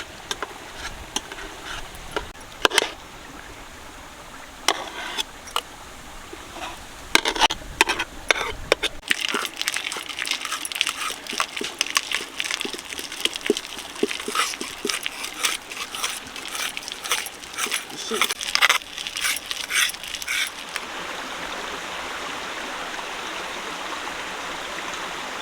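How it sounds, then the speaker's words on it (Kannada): Boiled chana dal is ground fine on a stone in a village kitchen, making a gritty, rhythmic scraping with repeated short crunching strokes that run steadily for a long stretch, close and fairly loud. "ಕಲ್ಲಾಗ ತಿರ್ಸ್ಬೇಕು ಸಣ್ಣನೆ."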